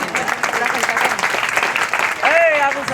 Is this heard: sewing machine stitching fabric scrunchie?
no